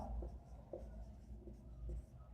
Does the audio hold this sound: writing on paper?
yes